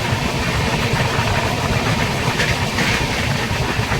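Tamralipta Express running parallel to a local train out of Howrah: a steady, loud rumble of wheels and engine with a broad rushing roar, continuous throughout and without any talk.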